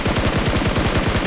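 Rapid automatic gunfire in a video game: a loud, close stream of evenly spaced shots, about a dozen in just over a second, with no talking.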